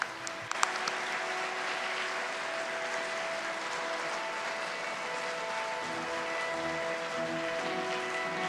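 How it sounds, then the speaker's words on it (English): Applause from the audience at the APEC Philippines 2015 meeting rolls on as a dense, even wash of many hands clapping and holds steady throughout, with a few sharp knocks near the start. "let us once again thank President Xi Jinping with a warm round of applause"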